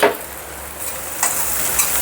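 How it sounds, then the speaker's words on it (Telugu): Onion pieces frying with prawns in a pan, a brief steady sizzle with a few soft stirring scrapes. "మనం ఇప్పుడు దీంట్లో ఉల్లిపాయ ముక్కలు వేసుకోవాలి"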